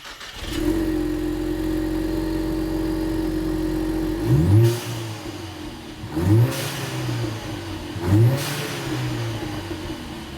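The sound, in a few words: stock exhaust of 2015-2023 Ford Mustang EcoBoost revving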